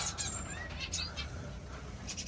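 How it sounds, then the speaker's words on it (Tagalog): A colony of gray zebra finches in a breeding aviary gives short, high chirps and tweets scattered over a steady background hiss, with no clear talking. "Ang mga ibon natin dito ay gray zebra finch colony breeding."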